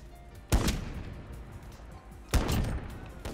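Two loud, sharp sniper rifle shots from Call of Duty gunfight gameplay ring out about two seconds apart, each with a short echoing tail.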